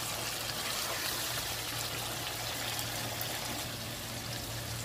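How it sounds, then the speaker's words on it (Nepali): A glass of water poured into a pan of mutton karahi makes a steady, continuous rushing splash lasting about five seconds, fairly loud and close, with no talking. "अभी हम इसमें डाल देंगे एक गिलास पानी और इसको कवर कर देंगे।"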